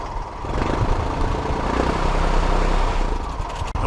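A boat engine runs with a steady, loud mechanical drone and a low throbbing beat, holding an even level throughout, with no talking.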